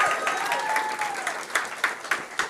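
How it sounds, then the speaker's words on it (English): Audience applause at a people's fashion show: a steady wash of clapping from a crowd, with a few louder individual claps rising out of it and faint cheering mixed in. "Let's give another round of applause."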